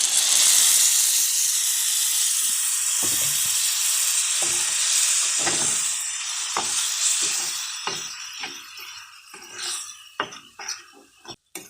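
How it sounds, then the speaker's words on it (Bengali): Boiled noodles are added to a hot pan, bringing a loud, steady hiss and sizzle that slowly fades as scattered clinks and scrapes of a utensil stirring the noodles come through close up. "এবার আমি নুডলস, সিদ্ধ করা নুডলসটা দিয়ে দেব।"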